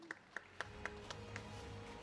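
Audience applause at an awards ceremony, faint and thin, with a few separate claps in a slow rhythm that fade over two seconds.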